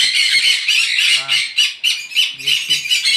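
Harsh, shrill sun conure parrot squawks repeat in a noisy flurry at a breeding farm, several birds calling close by, with a few low voice murmurs underneath.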